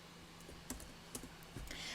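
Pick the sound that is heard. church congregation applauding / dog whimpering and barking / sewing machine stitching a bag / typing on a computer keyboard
typing on a computer keyboard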